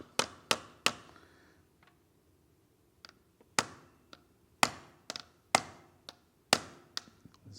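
Sharp, close metallic taps as a socket knocks a bearing into a Royale RP 30 motorcycle clutch. A quick group of three strikes comes first, a few faint knocks follow, then a steadier series of firmer hits.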